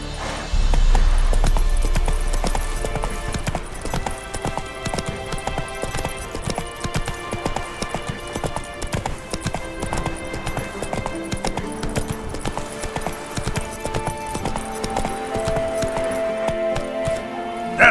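Hoofbeats of Roach, a horse in The Witcher 3 video game, clip-clop steadily at a gallop in a continuous rhythmic pattern over layered game music and ambience, with a brief whinny.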